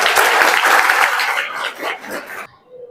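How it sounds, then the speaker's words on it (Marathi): A school audience gives loud, dense clapping for a student, a brief burst lasting about two and a half seconds before it stops abruptly, with faint voices underneath. "हिच्यासाठी एक जोरात टाळ्या व्हायला पाहिजे"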